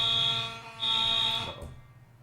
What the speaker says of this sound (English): Apparently they're doing work on the fire alarm.